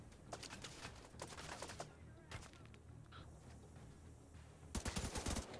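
Rapid gunfire from a weapon in The Division 2 shooter game, faint distant bursts of quick cracking shots in several clusters, with a louder volley near the end.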